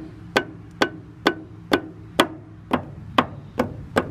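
Steady hammer taps on a nut being driven into the swing cylinder of a Case 580 Super L backhoe boom, nine sharp metallic strikes roughly every half second, close and clear, with no talk.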